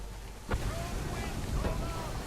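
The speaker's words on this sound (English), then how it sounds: "Heavy gusts, Captain." Heavy wind gusts buffet a ship at sea, a loud broadband roar with surging bursts and water wash, voices faintly present beneath.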